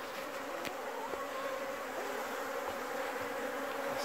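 Honeybees buzz around a single hive in September on the island of Newfoundland, a continuous close hum with individual insects droning past now and then.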